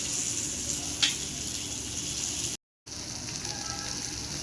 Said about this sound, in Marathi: एक नंबर आपली मच्छी तळून होणार आहे